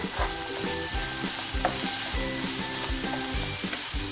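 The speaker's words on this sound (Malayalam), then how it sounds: "ഇതിലേക്ക് കുറച്ച് കറി ലീഫ്സ് ചേർത്ത് കൊടുക്കുന്നു" Curry leaves go into a pan of frying tomato and onion, bringing a loud, close sizzle with regular scraping stirs that thump out a steady rhythm.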